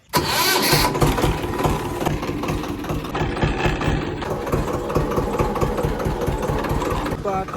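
Tractor engine cranking and catching, then settling into a steady, rough, chugging idle up close, running loud for several seconds.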